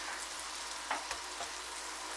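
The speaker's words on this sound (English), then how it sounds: "Now we fry our onion for a couple of minutes until it's see-through" Onion fries in butter and oil for a one-pot goulash, a faint, steady crackling sizzle with a couple of soft stirring knocks.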